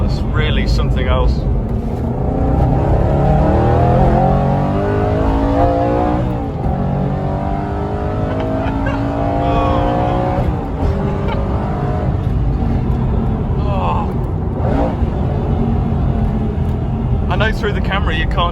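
The V8 of an Aston Martin Vantage GT8 roars loud and close, holding a heavy, steady drone that rises and falls as the car pulls, with a voice speaking faintly underneath.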